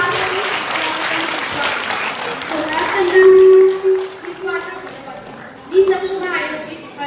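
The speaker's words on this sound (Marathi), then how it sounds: "आपण वहिनीचं जोरदार टाळ्या स्वागत करूया" Audience clapping to welcome a woman onto the stage at a village women's gathering with haldi-kumkum and games. The applause runs throughout, with voices talking over it.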